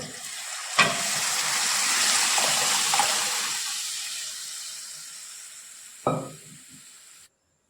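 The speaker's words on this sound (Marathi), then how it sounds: "डाळ घातली आहे त्यानंतर आपण पाणी घालतोय" Water poured into a kadhai of dal with spices sautéed in oil, for a mixed mung and masoor dal amti, making a steady hissing sizzle with a sharp splash or clatter near the start and another near the end.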